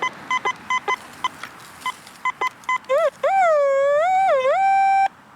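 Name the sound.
metal detector signal tone over a buried target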